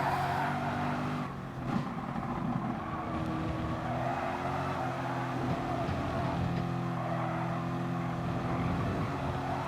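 Race car engines in the GT Sport video game at the start of an online race, a loud sustained multi-engine drone with steady revving harmonics and a brief dip near two seconds, no talk.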